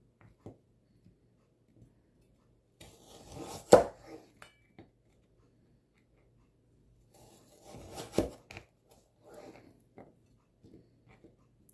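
A knife cutting carrots on a board produces two short bursts of scraping, chopping strokes with a few scattered soft taps between them, in otherwise quiet surroundings.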